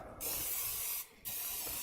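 Two long hissing sprays from a can of cooking spray onto a waffle pan, broken by a brief pause, close and fairly loud.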